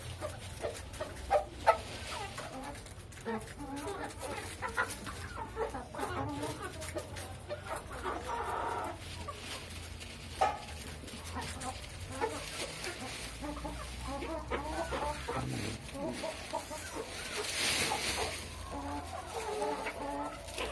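Chickens in a backyard coop cluck and squawk repeatedly while pecking at scraps of toast, close and busy, with occasional louder calls and soft human voices now and then.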